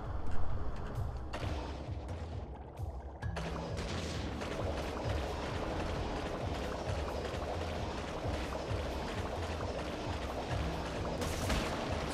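Gunfire and explosion-like blasts from the Crash Bandicoot 3 Warped N.Sane Trilogy remake, during a level before the Dr. N. Tropy boss, run as a dense continuous barrage with rhythmic game music underneath and no talk.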